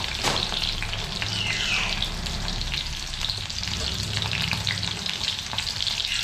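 Red and yellow mustard seeds, green chili and onion crackle and fry in hot oil, a dense, steady sizzle with faint popping and light stirring, close-up and fairly loud, with no talking.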